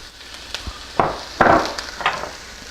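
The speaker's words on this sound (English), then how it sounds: "Hear that sizzle? Delicious sizzle." Vegetables sizzle in a hot wok during a stir-fry, with bursts of louder frying as they are stirred and tossed, plus occasional light clinks of a utensil.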